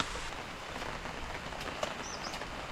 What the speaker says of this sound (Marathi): पाऊस तर जोरात सुरू आहे